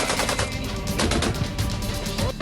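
Heavy gunfire during a Russian attack on Kharkiv, a dense, continuous rattle of automatic fire that fills the whole stretch loudly with no break.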